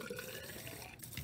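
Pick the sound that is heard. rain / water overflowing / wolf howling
water overflowing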